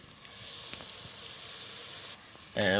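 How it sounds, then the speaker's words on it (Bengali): Steady soft sizzling of food frying in a rice cooker fills the clip, with a faint hiss and brief rustle, and a sharp louder noise near the end. "এটা তো ভাজা ভাজা হচ্ছেই"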